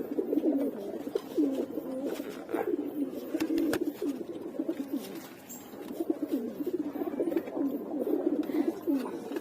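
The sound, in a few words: pigeons cooing and fluttering while held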